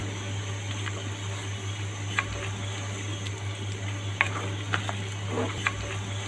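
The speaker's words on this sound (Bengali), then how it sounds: "আবার নিচ থেকে নাড়াচাড়া করে উল্টিয়ে পাল্টিয়ে আমি মিশিয়ে নিচ্ছি" Meat for Chittagong kala bhuna being stirred and turned in a pan, with a steady low hum underneath and a few soft, sparse scrapes and clicks from the utensil, fairly quiet and close.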